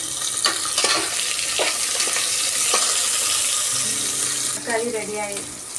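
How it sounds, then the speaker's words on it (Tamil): Onions sautéing in a pan for a Tamil-style chicken curry give a steady broadband sizzle with scattered stirring scrapes, plus a brief watery splash near the end. "தக்காளி ரெடியாகி வெங்காயம் வதங்கிருக்குங்க"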